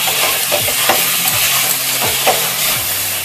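Boiled potatoes and spice paste with yogurt frying in a pan for a Bengali-style prawn curry, loud steady sizzling with repeated spatula scrapes and stirring knocks, no talking.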